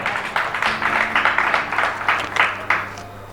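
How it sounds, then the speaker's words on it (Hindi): Listeners applaud after a Hindi poetry recitation, their clapping arriving in a series of rhythmic, moderately loud bursts with a low hum underneath. "क्या बात है, जोरदार ताली।"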